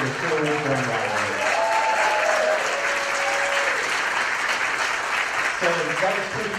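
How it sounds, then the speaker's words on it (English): Audience at a city State of the City event applauding a high school drum line, a dense wash of clapping that swells, holds steady and continues, with a voice speaking over it at the start and again near the end. "Another round of applause for the Sherwood drum line."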